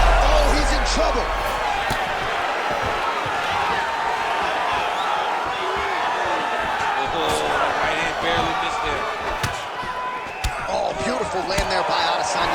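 Arena crowd noise from the UFC 5 video game during an Israel Adesanya vs Kamaru Usman fight, a steady roar of cheering that swells with the action and runs throughout beneath a commentator's voice.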